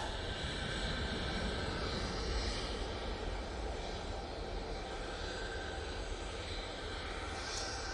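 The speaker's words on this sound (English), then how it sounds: "737-800 now coming on. It's going off to Verona." A Ryanair Boeing 737-800 jet at Manchester Airport produces a steady, broad engine roar throughout, heard from a distance at moderate level with no talk.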